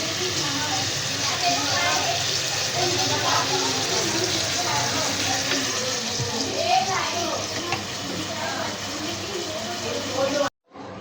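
Okra (bhindi) frying with masala in a pan, a steady sizzle with light crackle and occasional stirring scrapes, close and continuous, cutting off abruptly near the end; a voice talks over it.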